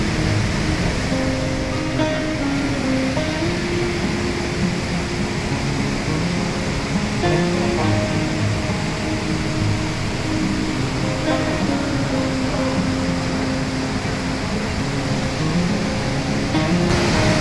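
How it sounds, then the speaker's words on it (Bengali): A Himalayan mountain waterfall and fast river on the trek to Machhapuchhre Base Camp pour out a loud, unbroken roar of rushing water, steady for the whole stretch. "পিছনে পাহাড় থেকে একদম ঝর্ণা কি সুন্দর নেমে এসছে"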